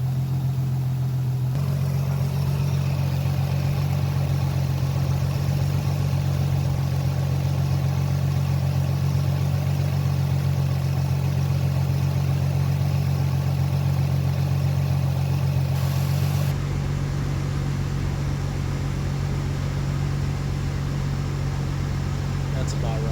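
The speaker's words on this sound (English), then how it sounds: "I'm just gonna rev it for like about 1500 to 2000 revolutions." Car engine held at a steady raised rev of roughly 1500 to 2000 rpm to purge air bubbles, a loud continuous drone with a shift in tone partway through and near the end.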